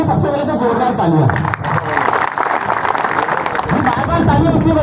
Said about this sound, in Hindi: राम बच्चन जी के लिए सबसे पहले तो जोरदार तालियां